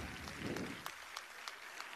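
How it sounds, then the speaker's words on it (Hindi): Applause rises from an audience at a World Disability Day ceremony as a lamp is lit, soft and somewhat distant, with scattered individual claps standing out toward the end. "तालियों के माध्यम से अभिनंदन"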